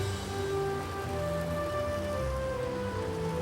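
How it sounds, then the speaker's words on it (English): A landscape garden waterfall flowing beside a brick retention wall, a steady even wash of falling water that continues without break for the whole stretch. "hopefully you can hear our waterfall coming into sights and sounds"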